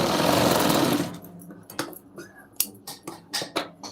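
A sewing machine stitches a blouse lining in one steady whirring burst, then stops and gives a few sharp mechanical clicks and taps at close range.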